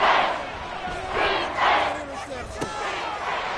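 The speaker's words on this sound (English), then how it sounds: "This crowd turning up the decibel level" A football stadium crowd roars and cheers loudly on a third-and-long play, a dense swelling wall of voices rising in waves, with a commentator talking over it.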